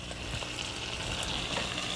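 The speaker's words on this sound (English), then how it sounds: "that is sizzling away beautifully there" Food sizzling in a frying pan in a 1980s cooking show kitchen, a close, steady crackling hiss with small irregular pops, heard alone briefly.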